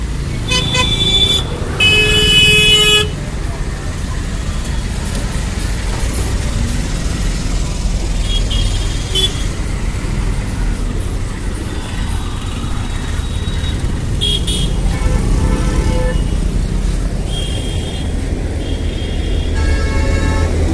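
Loud, busy road traffic heard from the roadside while crossing: a steady rumble of engines with several sharp car horn blasts and honks sounding at intervals throughout.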